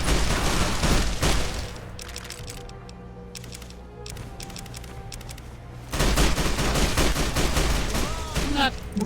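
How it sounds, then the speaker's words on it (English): Sustained rapid gunfire from enemies in a video game fight, loud dense bursts rattling continuously, easing briefly in the middle under background music before surging back heavy and close. "I'll just let them keep shooting."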